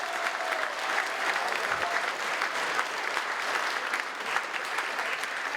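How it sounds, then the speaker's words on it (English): Audience applause for youth award finalists at an annual civic and community awards ceremony, steady dense clapping filling the hall without a break. "Can we have a round of applause for our finalists?"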